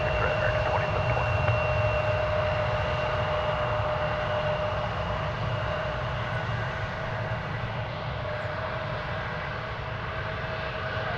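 An American Airlines Boeing 737-800 jet at DFW Airport produces a continuous loud engine roar with a steady whine on top. The sound stays even and close for the whole stretch and fades slightly near the end.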